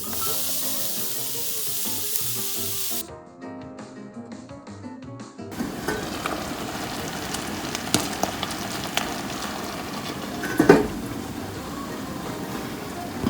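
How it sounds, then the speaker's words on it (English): Beef sizzles in a heated pan, a steady broadband frying hiss that starts partway through after a short musical passage and carries on to the end, with occasional louder spits and crackles. "So while the sauce is simmering, you can cook the beef."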